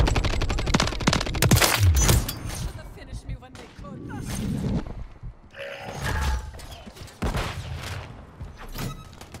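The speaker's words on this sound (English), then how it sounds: "guess we gotta use this gun now" Gunfire in a team deathmatch video game, with bursts of rapid shots and thuds spread across the clip, loud and close, mixed with other game sounds and a voice talking.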